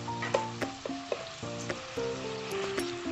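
Rabbit pieces go back into a pan with reducing port wine and sizzle steadily, with a few sharp clinks and scrapes over the continuous frying hiss.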